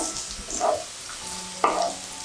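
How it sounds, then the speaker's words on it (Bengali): Onions frying in a pan, a low steady sizzle with a few spatula scrapes and clinks, close by with no voices. "পেঁয়াজ ভাজা ভাজা হয়ে গেছে"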